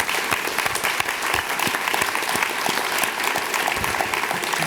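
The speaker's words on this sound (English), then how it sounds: "I hope people can applaud you all as a team as opposed to just as individuals" An audience at a December 2007 oath of office ceremony in Cupertino claps for the new leadership team, with sustained, dense applause from many hands close by and no pause.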